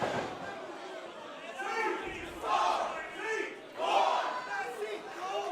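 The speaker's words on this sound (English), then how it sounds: "Crowd behind C4." Wrestling crowd roars and cheers in surging waves for the tag team C4 during their match against Los Suavecitos, a dense wall of yelling voices with swelling peaks, and spoken commentary likely underneath.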